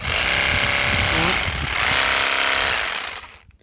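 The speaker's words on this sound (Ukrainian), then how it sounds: "слухайте за оборотами, як вона працює" An Einhell GE-GS 18/150 Li cordless pole saw pruner runs with a loud, steady motor buzz that swells slightly before it winds down and cuts off near the end, while a voice talks over it.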